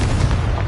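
A Confringo blasting spell in Hogwarts Legacy goes off as a loud, dense explosive boom, a heavy rumbling blast that fills the short moment with no voices over it.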